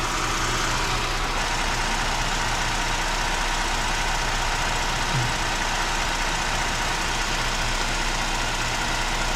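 A car engine idles steadily during a coolant flush, a constant loud rumble filling the clip with no talking.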